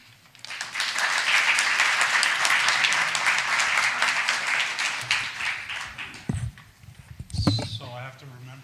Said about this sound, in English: please help me in welcoming Dr. Cappe